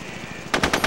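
Gunfire in SOCOM U.S. Navy SEALs Combined Assault, a quick rapid burst of four shots arriving after a brief quiet stretch.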